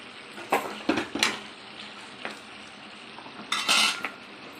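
Chili powder being stirred into frying chicken in a pan, with several metallic spoon clinks and scrapes against the pan over a soft background sizzle, close by.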